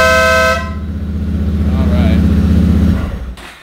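A loud Wolo horn on a Suzuki Marauder VZ800 motorcycle gives one short, bright blast. The bike's engine then idles and rumbles underneath for a few seconds.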